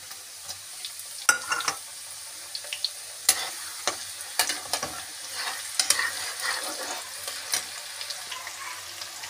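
Onion dropped into hot oil with garlic in a pan for mustard greens and mushroom saag, a soft crackling sizzle with irregular clinks and scrapes of a spoon, close but fairly quiet.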